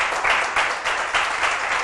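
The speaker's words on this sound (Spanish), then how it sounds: "yo le daría un aplauso a la palabra" A crowd applauds steadily, with many hands clapping together in a dense, even wash of sound.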